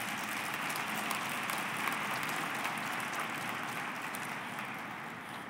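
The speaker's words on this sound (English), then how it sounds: "Let's give them a round of applause." An audience at a political gathering applauds, a steady wash of many hands heard from a distance, soft and even throughout, slowly thinning toward the end.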